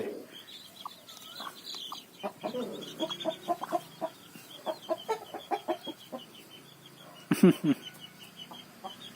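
Mother hens with chicks clucking in short, repeated bursts close by, with a few louder squawks near the end and soft rustling underneath.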